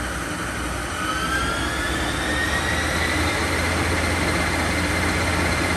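A 2001 Milltronics ML-17 17-by-40-inch CNC lathe spindle spins at high RPM, producing a loud, continuous mechanical drone with a whine that climbs steadily in pitch as it speeds up.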